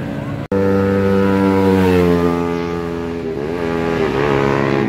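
A Suzuki Raider 150 motorcycle engine drones loudly and steadily, its pitch dipping and wavering near the end as it goes past, with faint talk in the background.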